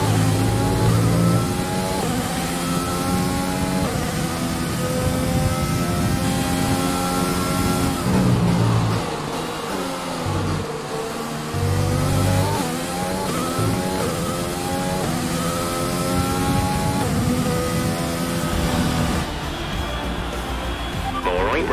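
F1 race car engine in F1 2020 at Bahrain screams loudly and continuously, pitch climbing and dropping through rapid gear shifts, with a voice talking over it.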